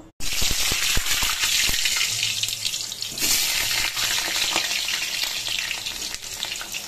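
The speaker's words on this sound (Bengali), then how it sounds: "তো আলুটা এখন ছেড়ে দেব।" Cut potatoes hit hot oil in a pan and set off a sudden loud burst of sizzling, which settles into steady, dense crackling frying close by, with no one speaking.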